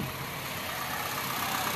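A Nissan Sentra B14 car engine idles in a steady, even rumble with a constant hum throughout, with no voices over it.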